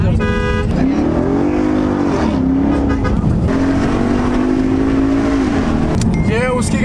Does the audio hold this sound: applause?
no